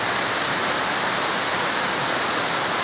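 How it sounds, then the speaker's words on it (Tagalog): Strong, rushing flow of a stream beside a house with a well, a steady, loud, unbroken wash of water with no gaps and no voices. "Malakas ang tubig sa sapa, oh."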